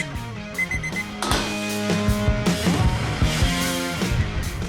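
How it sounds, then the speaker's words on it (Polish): A kitchen timer rings with a bright, repeating electronic melody that chimes on steadily for several seconds while testing charcoal briquettes from Weber, Napoleon and Fire&Flames. "Timer dzwoni, lecimy sprawdzić."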